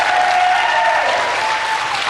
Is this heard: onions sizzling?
no